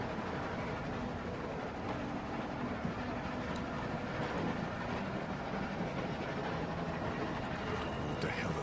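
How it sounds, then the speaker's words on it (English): A moving train in The Walking Dead video game, a continuous rumbling roll with faint rhythmic clacking of the railcar that stays even and moderately loud throughout, with no talk. "Stop the train."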